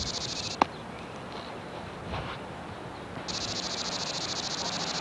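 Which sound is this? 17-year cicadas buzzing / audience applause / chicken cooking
17-year cicadas buzzing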